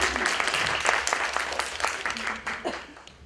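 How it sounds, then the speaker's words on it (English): An audience at a talk applauds its translator with dense, steady clapping that fades toward the end. "Can we give an applause to her because she's wonderful?"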